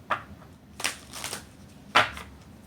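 A deck of cards is shuffled in three quick riffling bursts separated by short pauses, close and crisp in an otherwise quiet room.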